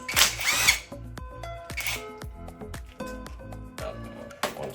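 Tool clicks and metallic rattles from loosening the screws holding the brake caliper on a Kaabo Mantis10 electric scooter with a 5mm Allen key, close up, in short uneven bursts with a louder rattle at the start.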